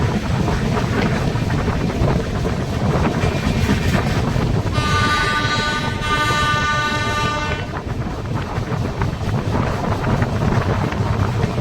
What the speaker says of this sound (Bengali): ওই যে মালগাড়িটা যাচ্ছে